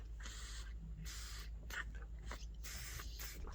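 Breath blown through the main jet of a 1999 Suzuki Quadrunner 500 ATV carburetor gives soft, close airy hisses in several short puffs, with brief pauses between them.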